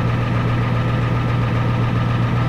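A Ford F-250 with a 7.3 IDI diesel engine idles loudly and steadily nearby, a constant low rumble with a slight knocking vibration and no talk.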